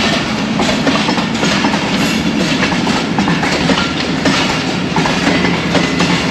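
A train runs straight through a railway station without stopping, a loud, steady rumble of rolling wheels and clattering carriages that holds at full strength for the whole stretch, with no voices.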